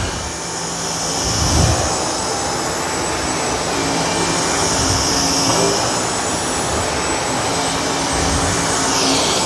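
A Dyson V10 cordless vacuum cleaner runs on a thick-pile, matted rug, giving a loud, continuous high-pitched whir with a faint steady whine, swelling slightly as the head is pushed through the pile.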